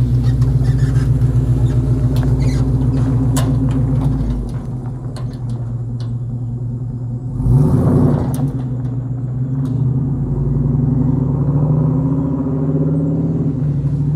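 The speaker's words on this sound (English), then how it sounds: "it's currently true duals and it sounds good, but he's got some bullet mufflers on there." An LS-swapped 1966 Chevrolet C10 pickup with true dual exhaust and bullet mufflers gives a steady, deep exhaust rumble throughout, easing briefly midway before a short louder surge and then settling back into a continuous drone.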